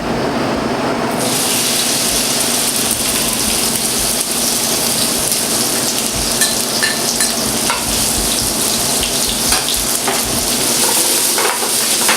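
Okra dropped into a hot oiled pan sets off a loud, steady sizzle that fills the whole stretch, with faint stirring scrapes now and then.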